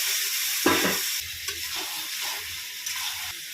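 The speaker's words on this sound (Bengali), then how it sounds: "মাংসগুলো আমি ধুয়ে নিয়েছি, এবার কষিয়ে নেব" Mutton pieces sautéing in a pan for a goat curry, giving a steady, close sizzle and hiss with a few brief stirring scrapes and clatters.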